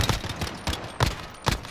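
Video game gunfire: four or five sharp, evenly spaced shots ring out close and loud, each with a short decay, and no talking.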